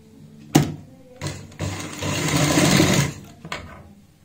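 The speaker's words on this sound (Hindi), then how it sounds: "और अब हमें बुकरम के साथ साथ सिलाई लगानी है" A sewing machine stitches a garment neckline backed with buckram, starting with a sharp clack, then short bursts and a sustained whirring run of about a second before stopping, close and alone.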